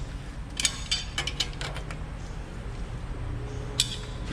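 A ratchet snugs down the front hub bolts on a Toyota Tacoma in quiet, scattered clicking bursts with a few sharper metallic ticks, faint against a low background hum.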